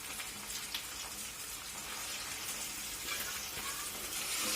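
Chicken pieces going into hot oil with fried curry leaves for restaurant-style chicken biryani set off a steady, dense crackling sizzle that holds close and even throughout, with no talking.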